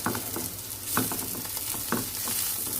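Bitter gourd frying in very little oil, its water cooked off and edges slightly charred, gives a soft continuous sizzle broken by regular scraping stirs about once a second.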